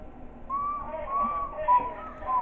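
Whistling by the principal character in the horror game Baldi's School House Nights, a series of thin sustained tones overlapping one another at once, moderately loud and steady for a couple of seconds with faint background game noise.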